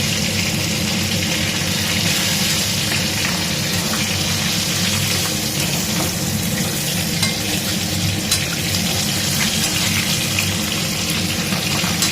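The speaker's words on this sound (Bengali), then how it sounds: "ভালো করে ভেজে নিই।" Oil fries loudly in a pan with a dense, constant close sizzle and hiss that stays even throughout, with no talking.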